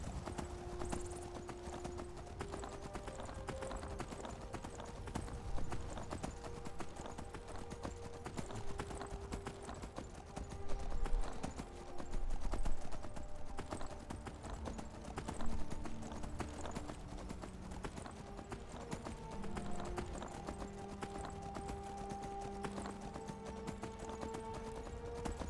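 Horse hooves clip-clopping in the video game Skyrim, a steady rhythmic trotting of hoofbeats that carries on throughout with game music playing underneath.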